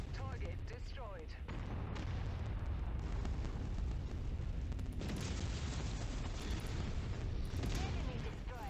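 Heavy explosions in the MechWarrior 5: Mercenaries video game as an artillery platform target is destroyed, a dense roaring blast with rumbling debris that fills the whole stretch loudly.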